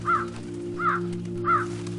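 A crow cawing at a window, three harsh evenly spaced caws that stand out clearly over a steady low hum, close and alone with no voices.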